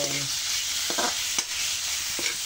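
Garlic and onion sautéing in a pan for adobo, a steady close sizzle broken by a few brief scraping stirs of a utensil, with no talk.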